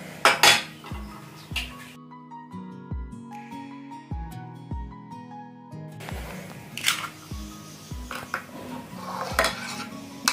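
A spoon or whisk clinks and scrapes repeatedly against a bowl while a whole egg is mixed into a hair-mask oil such as almond or coconut, with steady stirring taps and a low tonal hum underneath.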